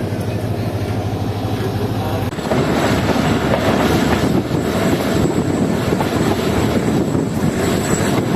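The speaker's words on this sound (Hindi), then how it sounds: "तो सोमनाथ रेलवे स्टेशन से निकल रही है हमारी ट्रेन।" The Marvi Passenger train pulls away from a station in the Thar desert, a steady rumble of wheels and carriages that grows louder and rougher partway through, with a faint high tone above the clatter.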